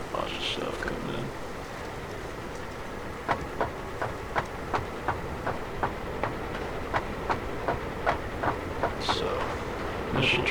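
A train running on rails in the video game Satisfactory: a constant rolling rumble with evenly spaced clickety-clack wheel beats passing over rail joints, close and fairly loud.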